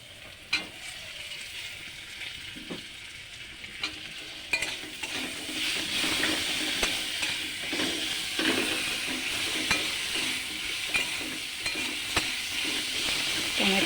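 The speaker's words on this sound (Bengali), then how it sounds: "এবার আমি কেটে রাখা টমেটোগুলো দিয়ে দিচ্ছি।" Chopped tomatoes drop into a pan of fried onions, setting off a loud, steady sizzle that swells and keeps going, broken by scattered clicks of a spoon stirring close by.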